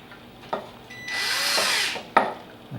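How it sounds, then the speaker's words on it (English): A power drill drives the last screw into a kitchen base end shelf, a single sustained whirring burst of about a second, close and fairly loud, framed by a few sharp clicks and knocks of handling. "Put the last screw in."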